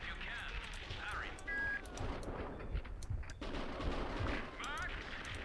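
Rapid bursts of automatic gunfire from a Max Payne 2 firefight on PC, loud and dense with overlapping shots, brief lulls and scattered single reports through the stretch.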